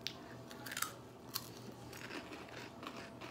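A cheese-and-bacon-flavoured snack from a German snack box is bitten and crunched close to the mic, with a few faint, brittle cracks over a low hum.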